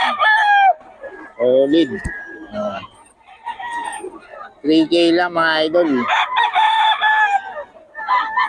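Roosters offered for sale crow repeatedly and loudly nearby in long, strained calls. Someone talks in between and over the crowing.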